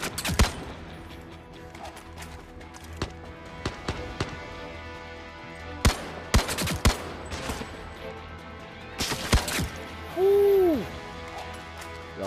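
Rapid DMR rifle shots from the video game Zero Caliber crack out in scattered single reports and short bursts, loud against a quiet background, with a brief tonal game sound near the end.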